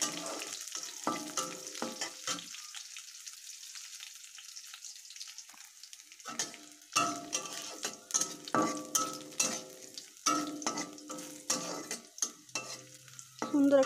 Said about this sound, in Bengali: মরিচটা ভাজা ভাজা হয়ে গেলে দিয়ে দিচ্ছি শাক।